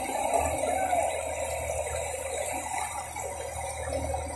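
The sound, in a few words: flood water flowing through a street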